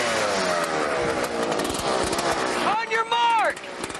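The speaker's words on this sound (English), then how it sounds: "start your engines" Homemade scrapheap vehicles fire up together for a sand slalom race, a loud, continuous rough engine roar with a brief rising and falling whine near the end.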